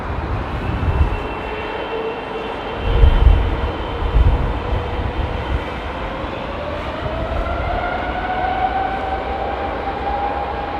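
Boeing 777-300 with GE90 engines landing at Heathrow in wet, windy weather, a loud broad jet roar with a rising engine whine and deep rumbling gusts, heard from nearby without talking.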